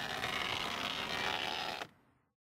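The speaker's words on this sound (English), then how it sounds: "if you wanted to know what a bad window regulator sounds," A failing window regulator in an Audi A4 door gives a harsh, steady grinding creak as the window moves, then stops abruptly near the end and leaves a brief fading tail.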